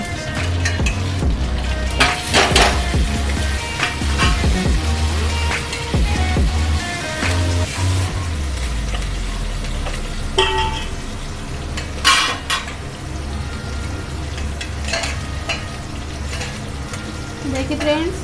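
Kadhi spices with green chilli frying in a pan as a spoon stirs them until brown, giving a steady close sizzle broken by repeated metallic scrapes and clinks against the pan.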